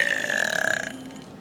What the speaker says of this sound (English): Make it the biggest burp